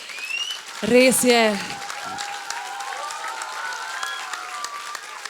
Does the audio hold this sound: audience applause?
yes